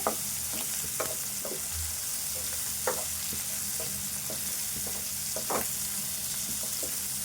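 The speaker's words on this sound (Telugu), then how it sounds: "ఇప్పుడే దంచి పెట్టుకున్న అల్లము వెల్లుల్లి పేస్ట్ వేసుకుందాం ఇప్పుడు ఇది కూడా కలుపుకుందాము వేగదాకా" Freshly pounded ginger-garlic paste frying for a chicken green chilli curry, a continuous soft sizzle broken by repeated spatula scrapes and taps in an irregular rhythm, close and without speech.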